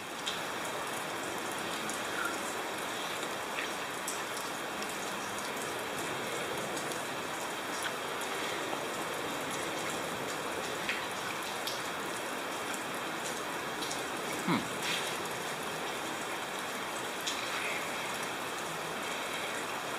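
Rain falls steadily on a cool day, a constant dense patter with occasional louder drops, close and continuous with no talk.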